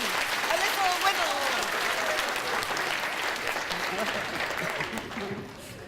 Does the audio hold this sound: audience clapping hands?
yes